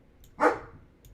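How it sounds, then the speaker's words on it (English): A single sharp dog bark, close and fairly loud, standing alone against a quiet room background. "How you starting barking early, bro?"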